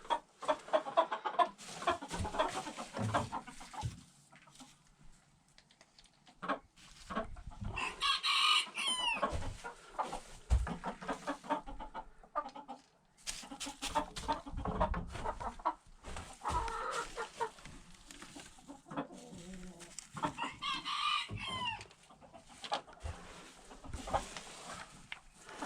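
Chickens cluck and murmur in a farm coop during evening chores, intermittent bursts of clucking and a few higher calls, fairly close but soft, with quiet pauses between.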